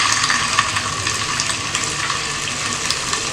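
Chicken balls shallow frying in a little oil for a spicy pepper kola fry, giving a steady, dense sizzle and crackle close up with no break throughout.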